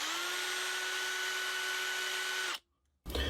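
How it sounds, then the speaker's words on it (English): Small power drill boring a hole with a 7/64 drill bit during a soldering and heat-shrink repair, a steady high whine running for about two and a half seconds before stopping, then a brief clunk. "this bit is size 7/64. I'm just gonna put it in here and just drill."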